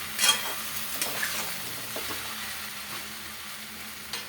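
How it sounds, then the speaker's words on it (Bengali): Spices sautéing in a covered pan are stirred with the lid lifted, giving repeated scraping strokes over a soft, steady sizzle, close by and with no talking. "আবার 10 মিনিট আমি ঢাকনা তুলে তুলে একটু নাড়া দিব।"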